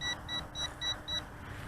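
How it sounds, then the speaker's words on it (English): A RUKO U11 PRO drone sounds its low-voltage warning as five short, evenly spaced high-pitched beeps over a steady background hum. "And beeps are heard."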